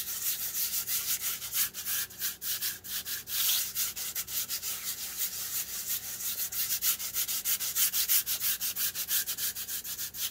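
Nail file rubbing back and forth on paper for a journal page, a dense, rapid, continuous scratchy rasp heard up close, steady and fairly loud without speech.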